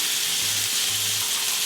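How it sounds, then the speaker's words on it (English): Beef fillet for Beef Wellington sears in a hot pan with a steady, bright sizzle and crackle of fat, close and continuous, with a faint low hum underneath. "Now we're just gonna sear this other side, and then we're good."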